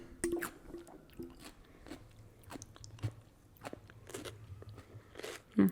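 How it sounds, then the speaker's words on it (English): Crisp, close crunches of someone biting and chewing cucumber, eaten with a garlicky yogurt-and-cucumber dish, come in several separate bites with wet chewing between them. There is no talk. "So crunchy. I love cucumber."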